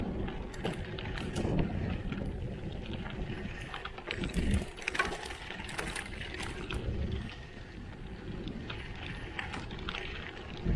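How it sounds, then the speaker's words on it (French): Strong gusty wind buffets the microphone with rough, continuous roaring and rumbling, swelling and easing in uneven bursts, outdoors in Provence near Rognes. "Ça souffle vraiment fort."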